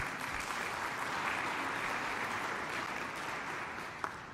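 Faint, distant applause from a large audience at an engineering symposium, continuous clapping that tapers slightly toward the end.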